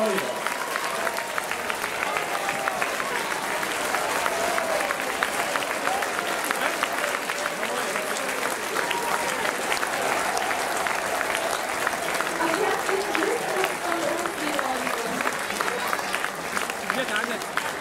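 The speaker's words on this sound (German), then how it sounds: "Herzlichen Glückwunsch und einen großen Applaus für euch." A crowd at the Rutenfest 2016 eagle-shooting festival applauding at the shooting range, a sustained, even wash of clapping lasting many seconds, heard from within the crowd with some voices underneath.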